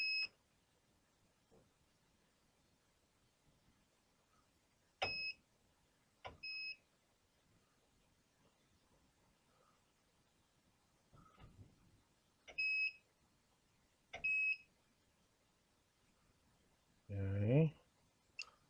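A multimeter gives short, sharp electronic beeps during continuity tests on the door-jamb wiring of a 1981 GMC C10 square-body truck, several brief tones spaced apart in a quiet garage with someone speaking near the end.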